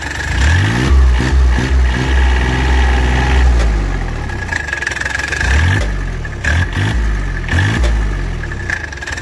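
A John Deere Gator with a Yanmar 3-cylinder diesel runs close and loud, its engine rising and falling through repeated revs with a chugging, uneven throb between idle and higher speed.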